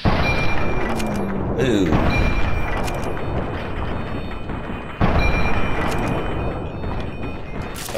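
Gunfire in Fallout 3 against raiders, a handful of heavy booming shots and thuds spread across the stretch, mixed with game ambience and a brief exclamation from a player.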